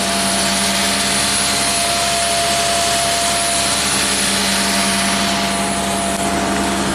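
A 1990 Jaguar XJS V12 idles high and steadily with a constant engine drone and whine, loud and close throughout, with no one speaking.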